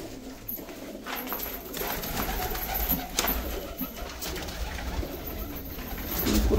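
Pigeons coo at a pigeon farm, soft repeated throaty calls overlapping from several birds amid a busy, noisy background.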